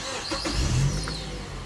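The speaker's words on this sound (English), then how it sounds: "So you want to see how long it takes to start the engine." A used car's engine is cranked and catches quickly, rising into a brief rev before settling toward idle, heard close and moderately loud with no talking.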